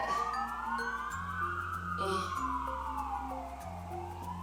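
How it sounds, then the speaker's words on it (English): A police car siren wails from a distance on a main road in Joondalup, its tone sweeping down as it passes, over a steady hum of traffic. "Sorry if you can hear that siren in the background."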